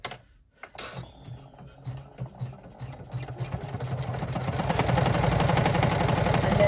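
An embroidery machine stitches a striped clutch, starting after a brief pause with uneven mechanical whirring that builds into a fast, steady rapid needle chatter, loud and close.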